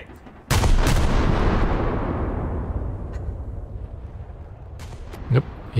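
Cruiser naval guns fire in a video game: one loud, heavy boom that rolls into a long fading rumble, followed by a few fainter distant shots near the end.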